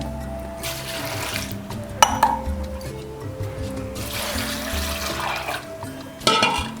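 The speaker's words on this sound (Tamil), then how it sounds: "இதுக்கு தேவையான தண்ணி, வேகிறதுக்கு தேவையான தண்ணி போட்டுருவோங்க." Water pours and splashes into a cooking pot over nine kinds of grains soaked for eight hours for navadhaniya sundal, a steady close gush with a few louder splashy bursts and no talking.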